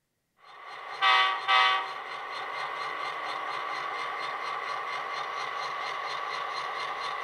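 An Athearn Genesis MP15 model locomotive on a main line track, its steady electronic engine sound running continuously and close, with two short horn toots near the start and no talking.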